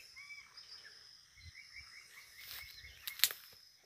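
Small birds chirp and call faintly from a farm garden with papaya trees, scattered tweets over quiet background hum, one brighter sharp call near the end.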